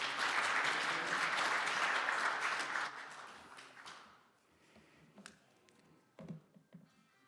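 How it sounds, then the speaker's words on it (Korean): An audience claps to welcome a university dean at a campaign launch ceremony. The applause is dense and steady for about three seconds, then thins into scattered claps and a few taps. "유홍림 학장님을 큰 박수로 맞이해 주십시오"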